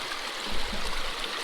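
Water rushes and gurgles through a gold sluice box set in the Kern River, a steady, broadband close-up flow with a low churning undertone and no voices.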